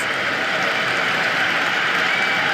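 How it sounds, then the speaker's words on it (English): A packed stadium crowd roars and applauds in the cricket video game Cricket 26, a continuous dense wash of cheering that holds steady without breaks. "all these spectators here today are completely enthralled and energised, judging by that noise anyway"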